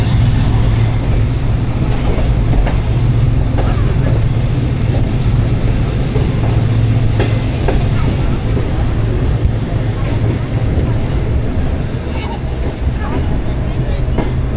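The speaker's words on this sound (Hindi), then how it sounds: "6:55 पे लांडी जंक्शन से पास हो रही है ट्रेन।" A passenger train runs through Landi Junction, a continuous loud rumble and rattle of wagons on rails with a steady low drone, heard from on board with faint crowd babble in the background.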